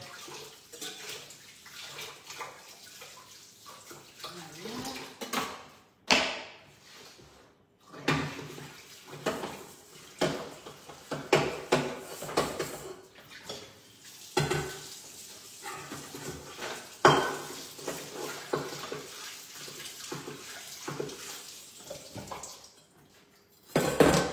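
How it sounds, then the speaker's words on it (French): Water splashing and running in a sink with clattering of a saucepan used for caramel being scrubbed, intermittent bursts of scraping and knocks, no talking. "Donc, je vais laver la casserole et revenir vers vous."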